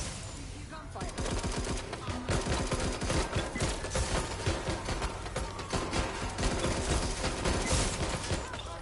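Sustained gunfire in the Watch Dogs: Legion video game, dense rapid bursts of automatic shots firing continuously and loudly from start to finish, with faint game voices mixed underneath.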